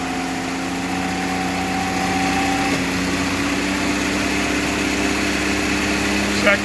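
An engine drives a 48RE transmission on a dyno in first gear, a steady droning hum with a sustained tone that drops away partway through, running alone at moderate loudness.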